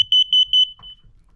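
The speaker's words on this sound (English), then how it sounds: "we have a carbon monoxide detector that will detect a gas leak" Three quick pairs of shrill electronic beeps from a carbon monoxide detector inside a Mercedes Sprinter camper van, loud and close, followed by a brief quiet tail.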